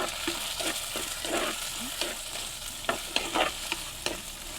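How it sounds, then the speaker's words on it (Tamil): Onions and green chillies sizzling in hot oil while a spoon stirs them, a busy steady hiss punctuated by frequent scraping strokes and clinks against the pan. "நல்லா எல்லாத்தையும் கிளறி விடுவோம்."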